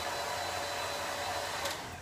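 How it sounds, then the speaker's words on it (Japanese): A hair dryer blowing on hair treated with a henna gel, a steady close whooshing drone with a low motor hum running unbroken throughout, no talking. "ドライヤーを、 当てていただきます。"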